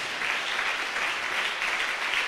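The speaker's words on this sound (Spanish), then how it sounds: "Denle un aplauso fuerte al Señor." A church congregation breaks into steady, dense applause that fills the room, loud and continuous throughout with no pause.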